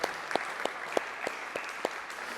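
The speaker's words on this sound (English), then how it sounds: "And another round of applause for all of our inductees for your accomplishments." A small audience at a high school athletic hall of fame induction ceremony applauds the inductees. Sparse, distinct claps come at a fairly even rhythm, faint to moderate in a hall, and no one speaks.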